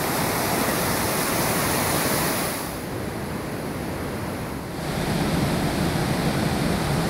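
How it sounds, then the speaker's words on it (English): Water rushes steadily through a restaurant at a medieval riverside monastery site in Bosnia and Herzegovina, a dense, continuous roar that dips briefly in the middle before returning full, with no voices. "there's water running through the restaurant"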